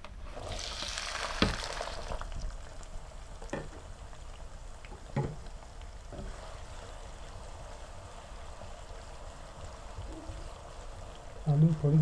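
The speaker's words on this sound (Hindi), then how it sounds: "अब इसमें पोटैटो आलू ऐड करें।" Potatoes drop into hot oil with toasted cumin in a home kitchen, giving a sharp splash and a few clatters, then a soft, steady sizzle that runs quietly for several seconds.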